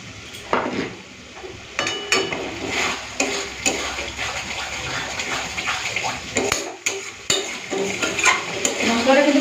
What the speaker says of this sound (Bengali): মশলাটা কিন্তু ভালো করে কষে নিয়েছি